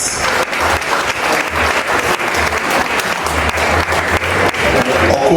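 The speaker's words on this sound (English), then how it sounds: "A round of applause for Dr." Sustained applause from a large crowd at an anniversary dinner dance, steady and loud from start to finish.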